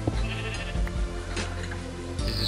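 A sheep bleats in the video game Minecraft, a wavering bleat near and clear over a steady background of game sound.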